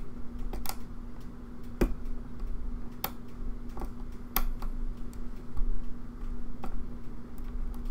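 Lock picking on a practice lock with serrated and spool pins, giving sparse, sharp little clicks and taps close up over a steady low hum, spaced irregularly across the passage with no talking.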